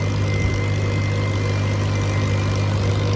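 A steady, low small tractor engine idles continuously with an even rumble and faint vibration, unchanging throughout, with no voices.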